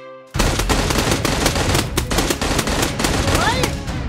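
Gunfire in the video game PUBG, with loud rapid bursts of automatic shots in quick succession after a brief quiet start, close and dense, with excited players' voices mixed in.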